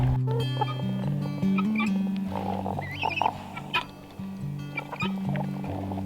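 Chickens cluck and squawk close by in a cold backyard flock, with bursts of varied calls layered over a steady low background hum, continuing throughout without speech.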